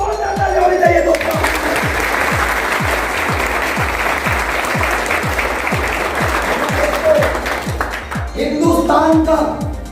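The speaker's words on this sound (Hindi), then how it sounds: "एक जोरदार ताली होनी चाहिए दोस्तों" Loud audience applause fills a hall at a motivational leadership event, with rhythmic thumping beats underneath and brief music or voices at the start and end.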